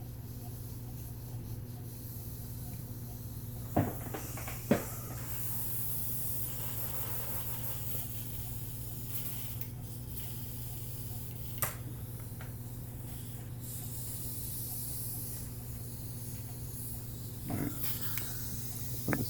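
A paint sprayer being flushed clean after priming gives a steady, close hiss of spraying that runs throughout, with a few sharp clicks and taps scattered on top.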